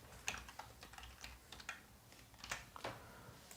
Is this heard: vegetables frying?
no